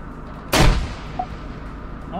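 A single heavy grenade blast booms close by in Arma 3, followed by a low rumbling tail and faint distant sounds.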